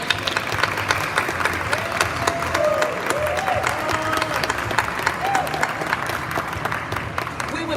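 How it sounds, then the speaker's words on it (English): Audience applause for student and staff models at a fashion show: sustained, steady clapping from a fairly close crowd, with a few voices mixed in throughout. "if we could give one more round of applause for our student models and our staff models"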